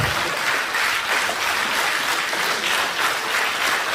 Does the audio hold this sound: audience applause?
yes